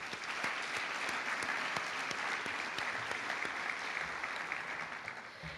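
Audience at a 2016 college athletics hall of fame induction ceremony claps in sustained, even applause that fills the hall for several seconds without pause.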